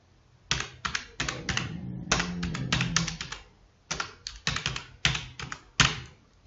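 A name is typed on a computer keyboard during a Hindi programming lesson: close, crisp keystrokes come in quick clustered bursts separated by short pauses, with no voices.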